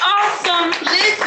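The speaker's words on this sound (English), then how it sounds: "So I like to applaud her." Applause breaks out in a courtroom, a short burst of clapping mixed with voices cheering and talking over it, fairly loud and close.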